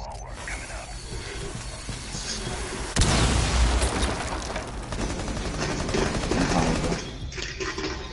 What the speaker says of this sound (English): What is that noise? Fucking firecrackers.